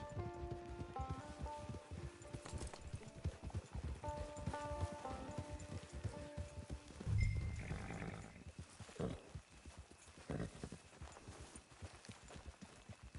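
Steady hoof clip-clops of a horse walking at an even pace in Red Dead Redemption 2 Online, with a soft musical drone and ambient noise underneath.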